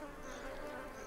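Bees buzz inside a wild bee nest in a steady, dense, close-up drone that holds without a break.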